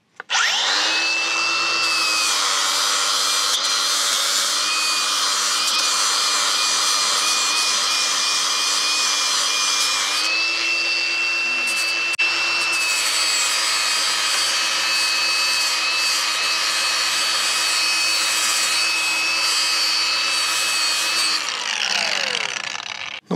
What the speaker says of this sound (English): Then we'll come back with a grinder and actually grind this back flat and back to the proper cut